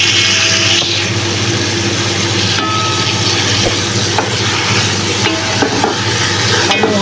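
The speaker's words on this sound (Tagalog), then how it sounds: "Lagay natin ang kalahati ng carrot. Pagkatapos, gisa-gisahin lang natin yan." Carrots sauté in a hot pan, giving a loud, continuous sizzle with scattered clinks and scrapes of stirring, close up and without any talk.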